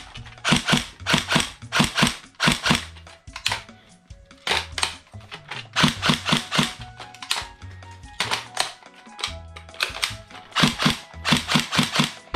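An AK Storm gel blaster fires full auto in repeated bursts, with rapid mechanical clacking rattles broken by short pauses. The bursts are loud and close, with no talk.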